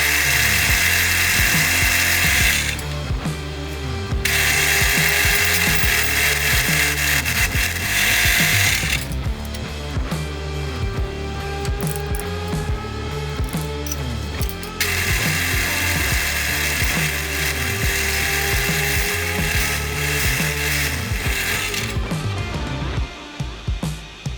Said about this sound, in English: I'll probably use a milling bit and just mill it out a little bigger than I need